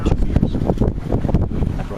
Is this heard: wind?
yes